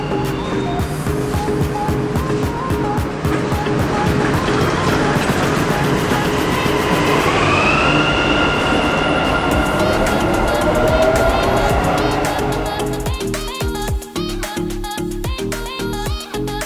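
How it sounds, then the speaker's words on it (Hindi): A Dubai Metro train pulls into a station platform with a loud, close rumble and rhythmic clatter. An electric whine rises and falls as it slows, and sharp mechanical clicks follow near the end. "और मेट्रो आ चुकी है, और अभी हम जाएंगे मेट्रो में।"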